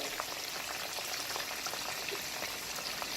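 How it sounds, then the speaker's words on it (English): Cornstarch-coated cooked crab frying in hot oil, a dense, even crackle and sizzle close by that holds steady throughout, with no voices. "You just want to fry it enough so that the cornstarch is good."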